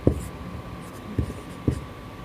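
Pen scratching on paper while notes are written by hand in a quiet room: three short, soft strokes spaced about a second apart, close and faint.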